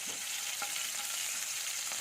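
Chopped green chillies sizzle in hot oil, a steady close hiss with a few soft stirring scrapes and taps from a spatula, fairly quiet and with no speech.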